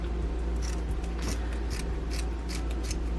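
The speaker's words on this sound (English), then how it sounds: "So you just have to give it a haircut, preferably with sharp scissors" Sharp scissors snip steadily at a yarn pom-pom, a continuous run of close, crisp cuts over a low steady hum, with no talking.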